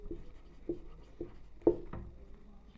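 A pen scratches a math solution onto paper in a few short, separate strokes with brief pauses between them, close and fairly quiet with no talking.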